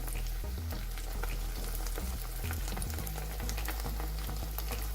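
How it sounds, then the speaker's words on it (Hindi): Large pieces of a crispy potato snack fry in hot oil, making a steady loud bubbling sizzle with a low rumbling undertone, close by and unbroken throughout. "देखें मैं बड़े वाले फ्राई कर रही हूँ"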